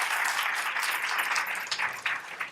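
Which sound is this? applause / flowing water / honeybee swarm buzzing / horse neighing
applause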